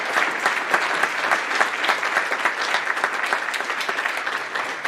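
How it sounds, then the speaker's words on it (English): A crowd applauds students at a 2021 high school scholastic awards ceremony, dense and even clapping that swells and dips slightly throughout, with no talking over it. "Could we please all give them one last round of applause?"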